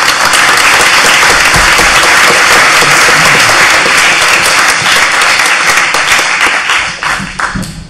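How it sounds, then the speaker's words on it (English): A large audience at an academic plenary session claps loudly for a panel of speakers, a dense steady ovation close by that thins and fades near the end. "please join me again in a round of applause for all of our panelists"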